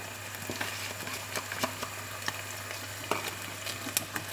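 Chopped small green onions fry in a pan with a steady, bright sizzle dotted with frequent sharp crackles and pops, close and continuous throughout.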